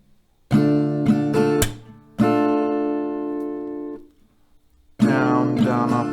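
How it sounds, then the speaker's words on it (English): An acoustic guitar strums a down, down, up, clap pattern. Several quick strokes are followed by a long ringing chord that fades to near silence, then the quick strokes start again, loud and close with no voice. "down, down, up, clap"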